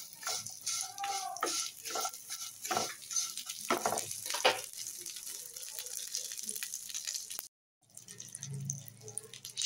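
Cashews and raisins are fried with vermicelli in a pan, giving a steady close sizzle with scattered crackles and stirring scrapes, followed by a brief silent gap and a low hiss.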